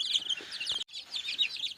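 Bantam chickens eating compound feed cluck and chirp softly in quick bursts at close range, with a brief silent gap midway through.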